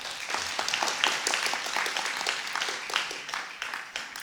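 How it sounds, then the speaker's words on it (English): An audience at a talk on fighting the opioid epidemic claps steadily for several seconds, dense crowd applause at moderate loudness. "Thanks for the clap"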